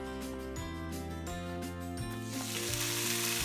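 Bacon sizzles and crackles on a grill, a steady bright frying hiss that swells toward the end, heard under background music.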